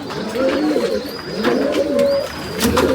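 Pigeons coo close by on a rooftop in repeated soft, throaty rolling calls, a few overlapping, with faint chirps in the background.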